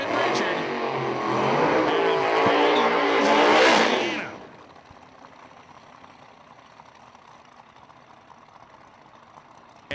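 Drag racing at Parker, Colorado, with a 1993 Mustang: a loud, close engine roar rises and holds for about four seconds, then cuts off, leaving quiet crowd ambience with some talk.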